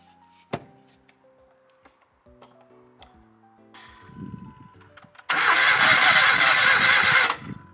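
An engine with air in its fuel system struggles through several short sputters and failed catches before firing into a loud, steady run that continues for about two seconds and then cuts off.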